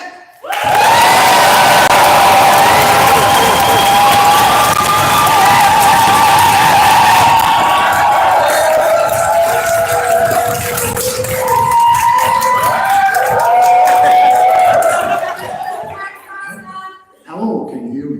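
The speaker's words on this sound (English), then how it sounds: "Please put your hands together for Tech." A crowd at an open meeting for a fire festival claps and cheers in a loud, sustained roar of applause that fades toward the end, with a voice heard over it.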